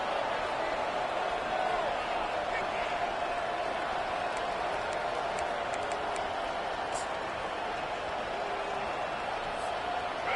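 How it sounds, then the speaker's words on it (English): A dense stadium crowd roars steadily throughout a college football game during a tense third down late in the fourth quarter, a loud continuous wash of cheering under a commentator's voice. "The crowd elevating its energy, willing this defense to get a stop on this big third down"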